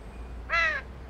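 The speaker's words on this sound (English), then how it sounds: "Could just be another crow, but it just stares at me from across the roof like it's trying to understand me." A crow caws once from a rooftop, a single clear harsh call lasting under a second over a quiet hum of background noise.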